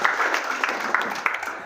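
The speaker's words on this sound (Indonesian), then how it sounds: "Tepuk tangan." Audience applause at a business model canvas workshop, a short burst of scattered clapping from a modest crowd, moderately faint with some murmuring mixed in.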